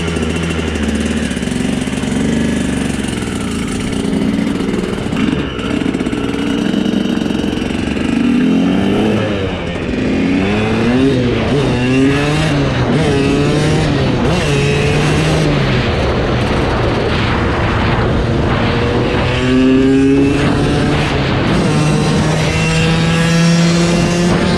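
A KTM 200sx two-stroke dirt bike engine revs loudly and continuously up close, with rising and falling pitch sweeps as the rider pulls away and accelerates through gears.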